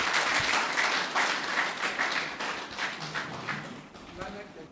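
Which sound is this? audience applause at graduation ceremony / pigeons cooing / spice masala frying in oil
audience applause at graduation ceremony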